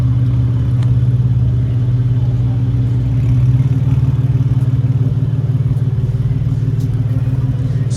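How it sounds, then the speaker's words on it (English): A BMW 125i with an inline six-cylinder engine idles steadily close by, a smooth, even hum with a faint rhythmic patter and a slight swell in revs midway, with no one talking. "Listen to the sound of this car guys."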